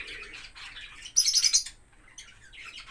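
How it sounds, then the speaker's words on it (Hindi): Native Indian parrots give sharp, high chirps and squawks, with a louder burst of shrill calls in the middle among softer chatter, close by and with no talking. "तोते, ये हमारे देसी तोते हैं।"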